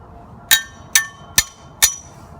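A metal wedge anchor in a pool handrail is tapped down during a winter pool closing. Four sharp, ringing metallic taps come at an even pace, each decaying quickly, close and clear.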